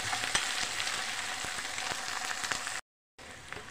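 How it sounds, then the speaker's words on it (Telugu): Ginger garlic paste frying in a pan gives a steady close sizzle with faint crackles, cut by a brief moment of silence near the end before the hiss resumes. "పచ్చి వాసన పోయేదాకా ఫ్రై చేయండి"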